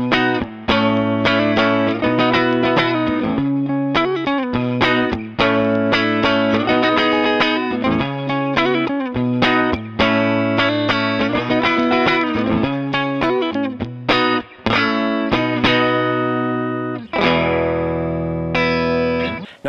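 Electric guitar played through the clean channel of a BluGuitar AMP1 with the mids pushed for a British-style clean, strummed chords and picked notes ringing steadily and loud for the whole stretch, alone with no talk.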